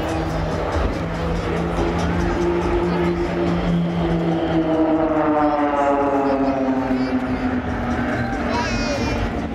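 Display aircraft flying past in formation at the Scottish Airshow: loud, continuous engine roar with a falling Doppler pitch as the formation sweeps by, under a public-address commentator talking throughout.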